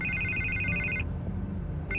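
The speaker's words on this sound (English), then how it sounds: "I can't get the phone to stop ringing." Telephone ringing in Batman: The Telltale Series, an electronic trill that rings steadily for about a second, pauses, then starts again, clear over a low background hum with no talk.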